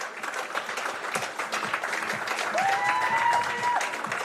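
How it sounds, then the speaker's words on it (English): Crowd applause at a Pararoos v India IFCPF para football match rolls on steadily, a broad spread of clapping heard from a distance, with a whistle-like tone and a faint voice partway through. "And there is the applause"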